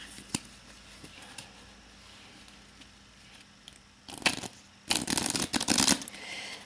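A new Winged Spirit Tarot deck with slightly sticky cards is riffle shuffled twice in quick succession, each a crisp, close flurry of flicking card edges following a quiet stretch.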